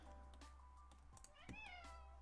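A pet cat gives a couple of faint meows indoors, short rising calls heard at low level over a steady background hum, with a quiet bit of voice nearby.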